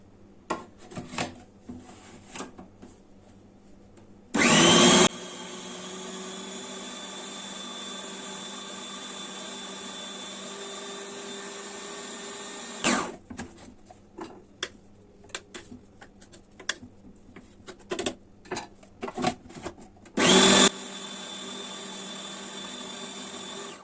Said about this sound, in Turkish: Biraz da tuz ilave edip şimdi robotta çekeceğiz.